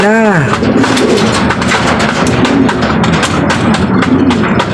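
Pigeons, kept by a breeder, coo and flutter while being fed, a steady close mix of low cooing and scuffling with a brief rising whistle at the start.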